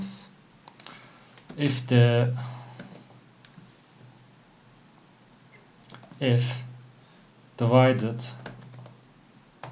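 Typing code on a computer keyboard during an Arduino lesson, soft rapid key clicks running quietly under a man's speech, which comes in several loud bursts.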